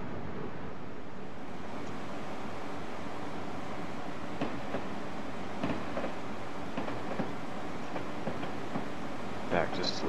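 Acela Express train in the Train Simulator 2015 game, stopped at a station with doors open while passengers load, giving a steady low rail rumble with faint clicks and a brief swell near the end, a voice talking over it.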